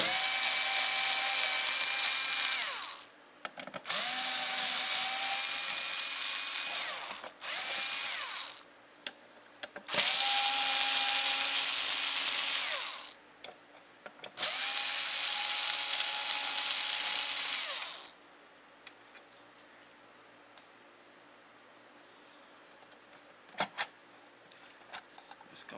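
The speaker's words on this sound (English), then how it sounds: "Open up these four screws using your Phillips one screwdriver" A Phillips screwdriver backs four screws out of an Xbox 360 Liteon DVD drive. The driver whirs in several separate bursts of a few seconds each, close and fairly loud, then the sound drops to near quiet.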